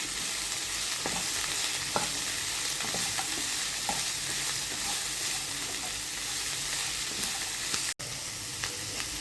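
Cabbage and beans sautéing in a pan, a constant close sizzle with scattered soft stirring scrapes and clinks of a spoon, briefly interrupted near the end, and no talking.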